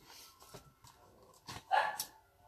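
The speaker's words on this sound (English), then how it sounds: "Oh, the dogs." Dogs bark in a short indoor burst, a few quick yaps rising in loudness near the end, heard at moderate distance in a quiet room.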